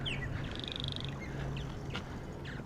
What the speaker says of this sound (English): We've got some birds in a little birdhouse there.